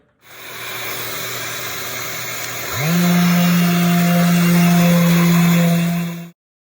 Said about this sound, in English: it's gonna get loud here in a second because I'm gonna go turn the vacuum on